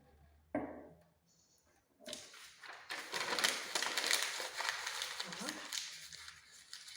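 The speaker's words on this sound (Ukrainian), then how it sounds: "Це шурудіння" Crisp, crackly rustling of paper fills most of the clip, loud and close, following a few brief clicks and a short rattle at the start.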